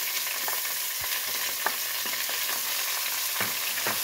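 Chopped onions sizzle and fry steadily in oil in a cooking pot for Turkish white bean stew, a constant close crackle with a few stirring scrapes and no talk.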